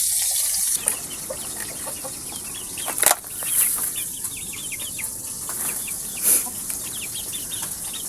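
Sweater breed chickens, part of a breeding flock, cluck and stir with occasional wing flaps, with a couple of louder bursts standing out over a steady noisy background.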